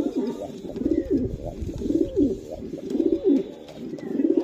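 Racing pigeons kept by a breeder coo in a steady repeating rhythm, several soft throaty phrases in close succession, heard near and alone.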